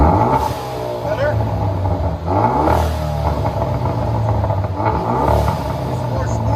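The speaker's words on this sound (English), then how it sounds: "So it's a Veloster Turbo. We'll let you guys hear it in a second." A 2017 Hyundai Veloster Turbo fitted with a Vibrant bottle resonator exhaust revs up several times in quick succession, each rise in pitch dropping back to idle, loud and close with voices talking over it.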